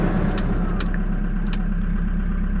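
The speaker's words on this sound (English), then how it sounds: "Let's turn the engine off. Probably the engine going nuts." A car engine idles steadily, its low rumble close and constant throughout, with a few faint high clicks over it.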